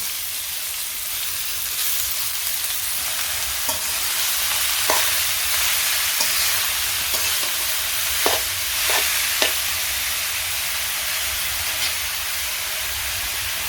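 Vegetables sizzle and fry steadily in a pan with mustard paste while a spoon stirs, giving a few sharp scrapes and clinks over a constant hiss.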